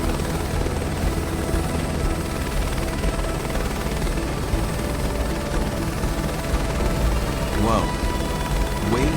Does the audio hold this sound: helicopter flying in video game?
yes